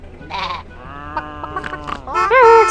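Cartoon sheep in a kids' LEGO farm game bleat several times over a light musical background, with short wavering calls growing louder toward the end.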